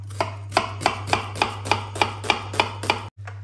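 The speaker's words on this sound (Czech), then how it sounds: "nakrájím si cibulku na drobno" Finely chopping onion with a knife on a board, about ten evenly spaced, crisp knocks at a steady rhythm, close and clear over a low hum, with no talk.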